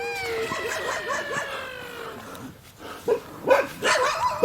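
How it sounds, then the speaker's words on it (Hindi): Dogs yelping and whining, a drawn-out howling whine first, then a few close, sharp barks toward the end. "कुत्तों की एकदम साफ आवाज सुन सकते हो और कुत्ते कभी गलत नहीं भौंकते हैं"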